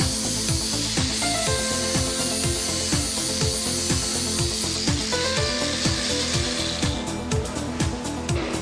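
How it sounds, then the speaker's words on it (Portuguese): Recesses along a car roof channel being polished with a power tool produce a close, steady rhythmic grinding rasp in regular strokes, continuous throughout without speech. "Também lateralmente, na área dos dois canais do tejadilho, polir as concavidades a todo o comprimento."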